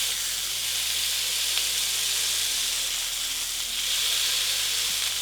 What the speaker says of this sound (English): We're gonna smash it on top using another spoon